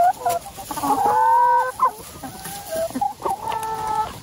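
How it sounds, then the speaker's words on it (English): Backyard chickens cluck and call nearby, with drawn-out, warbling vocalizations and short clucks overlapping at a moderate, steady loudness. "nice to see the birds happy and healthy"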